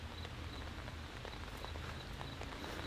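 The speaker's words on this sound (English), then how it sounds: "It is full on raining, folks. Not just a sprinkle, not a drizzle, it's raining." Heavy rain falls steadily around a car camping spot, a dense, even patter with scattered close drops hitting a surface, continuous and fairly quiet throughout with no voices.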